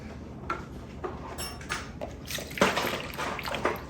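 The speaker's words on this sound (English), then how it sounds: "I poured the water in." Water poured from a cup into cupcake batter in a home kitchen, a soft splashing slosh with a few light knocks and clatters, quiet and close with no talking.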